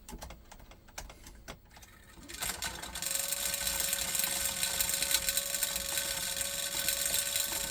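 A Sony SLV-301 VHS recorder mechanism threading a tape: a few clicks and ratcheting taps, then a loud continuous whirring, grinding drone with a steady tone, close up.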